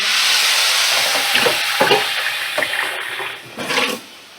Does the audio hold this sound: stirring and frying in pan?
yes